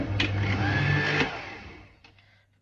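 A food processor runs mixing egg yolk, sugar, flour and yeast, a loud whirring motor drone that winds down and stops, followed by a couple of faint clicks.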